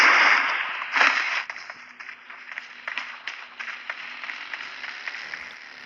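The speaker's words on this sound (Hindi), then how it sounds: "अगर आप कोई भी बैग उठाना चाहते हो तो बैग का साउंड भी यहाँ पर आपको मिल जाएगी" PUBG Mobile bag pickup effect: a sharp whooshing rustle bursts up at the start, then trails off into a string of softer fabric rustles and light taps.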